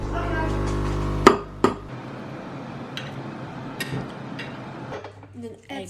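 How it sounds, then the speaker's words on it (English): A utensil stirs a cheese mixture in a bowl, giving a few scattered clinks and taps against the bowl over quiet room noise, with a hum fading out early on. "And then just give that a really good stir."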